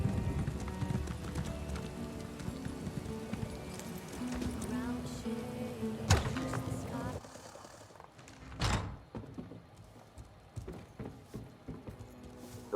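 Horse hooves clip-clop at a steady pace while riding in the video game Elder Scrolls Online, mixed with game sounds and talk, followed by a thunk and sparser hoofbeats.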